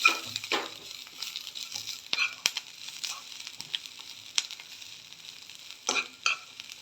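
Onion, cumin, ginger and garlic sautéing in a pan for shev bhaji, a soft close sizzle broken by repeated scrapes and clicks of stirring, with no talk.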